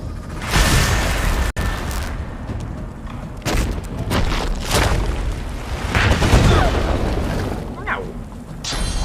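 Crackling bursts and booming rumbles of a lightning spell in Divinity: Original Sin 2 roll through in waves, loud and close, with a sharp crack near the start.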